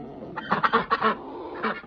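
Poultry, including bantams, kept indoors in a tent give a burst of loud, close honking and squawking calls, several overlapping cries in quick succession with a short pause before more.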